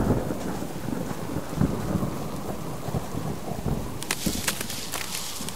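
Steady rain falls outdoors with a low rumble of thunder rolling beneath it, and sharper drips and spatters pick up close by toward the end.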